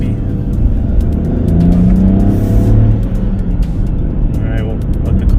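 Inside a Ford Bronco Sport Big Bend as it accelerates up a highway on-ramp, a steady engine hum and road rumble with a brief rising rev in the middle, with an occupant talking over it.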